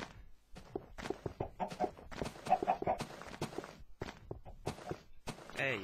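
Minecraft chickens cluck in short bursts among thudding footsteps and blocky game thunks, with the clucks fairly close and mixed throughout.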